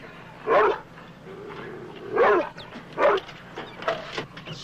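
A Doberman-type dog from a 1970s adventure film barks in several loud, sharp bursts at a steady pace, with softer yips and whimpers between them and no talk over it.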